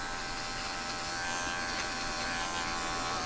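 Electric hair trimmers buzz steadily and close throughout while cutting a low fade haircut, a continuous motorized hum with no pauses or talk.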